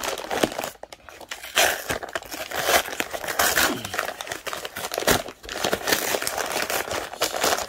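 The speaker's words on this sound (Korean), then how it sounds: "오늘 배송 온이 제품을 뜯어보도록 하겠습니다" Packaging around a delivered coin album is torn and crinkled open by hand, with close, busy crackling and ripping that comes in uneven bursts with brief pauses.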